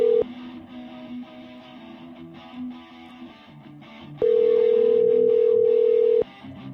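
A telephone ringback tone while calling a number: a short beep, then one long steady tone lasting about two seconds, loud and clear over quiet background hum.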